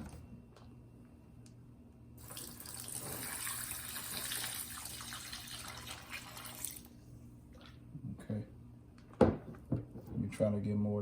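Brisket juice is poured in small amounts over a smoked brisket, giving a soft liquid splashing and trickling that swells midway and then fades. Scattered handling clunks and a few thumps follow near the end.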